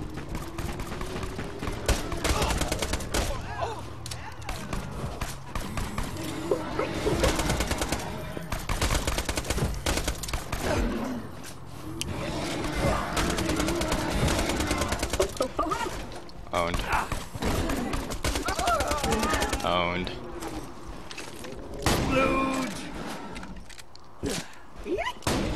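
Borderlands video game gunfire from a heavily recoiling gun, bursts of rapid shots and game effects repeating over about twenty-five seconds, with someone talking over much of it.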